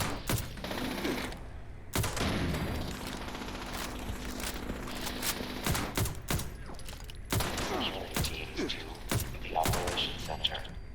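Rapid bursts of turret gunfire echo through the Site Alpha missile silo in a video game, sharp shots and thuds arriving in clusters over a constant dense background din.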